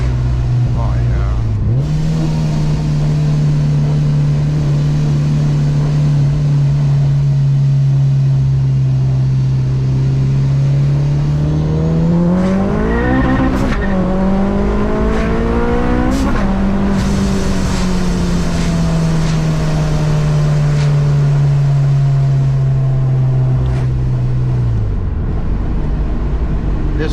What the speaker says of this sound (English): I want to do a little second gear hit right here.